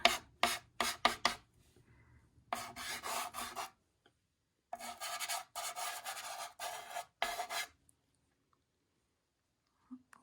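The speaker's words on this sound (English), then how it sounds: "now I'm gonna start rubbing these colors in just a second" Chalk pastel colors rubbed into paper by hand for a northern lights picture, close dry scratchy strokes in short rhythmic bursts separated by quiet pauses, alone without talk.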